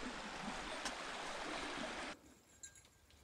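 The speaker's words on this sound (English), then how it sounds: "Every campsite in Bear Beach has got a river," A river runs beside a campsite at Bear Beach on the Juan de Fuca Trail, giving a steady, close rushing of flowing water that cuts off abruptly partway through, leaving quiet background.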